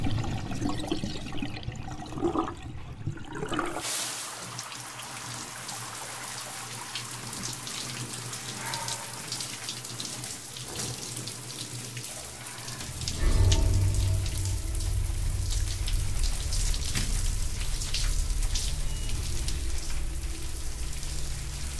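Steady hiss of running water, like a shower spraying, continuous throughout and growing fuller and louder partway through.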